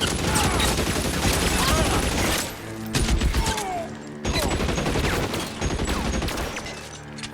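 Continuous heavy gunfire during a shootout in L.A. Noire, a 1940s Los Angeles detective game, with dense overlapping shots and crashes that pause briefly, then resume, loud and close.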